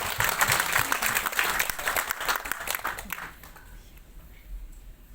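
Audience applause at a Ramayana lecture at an Indian cultural centre in Yangon, a dense burst of clapping for about three seconds that fades into quieter room noise.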